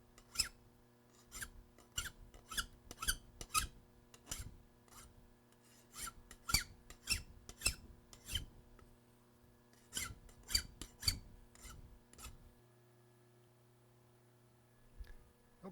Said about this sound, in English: Let's go ahead and take the burrs off.